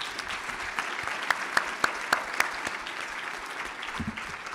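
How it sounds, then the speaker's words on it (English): Applause from an audience at a lecture event, moderate clapping with several distinct loud claps close by, tapering off toward the end. "Let's give these folks a round of applause."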